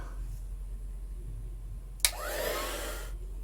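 A heat tool blasts steady hot air to heat-set embossing powder on a print, switching on abruptly with a sharp click and whooshing for about a second before cutting off, with quiet room tone around it.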